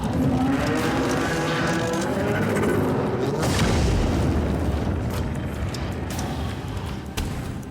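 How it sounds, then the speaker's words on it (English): A hand cannon fires in the survival horror video game Tormented Souls 2, a loud, heavy boom that rumbles and decays over several seconds, filling the clip without speech. "Okay, 1 shot from the hand cannon did it."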